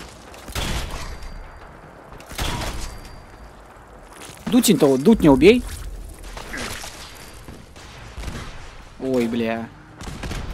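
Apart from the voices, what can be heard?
rapid enemy gunfire in Fallout 4 video game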